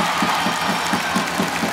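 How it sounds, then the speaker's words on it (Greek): Warm applause from the crowd at a Norway–Greece match: steady, even clapping from many spectators, moderately loud and continuous, with no voices standing out. "ζεστό χειροκρότημα"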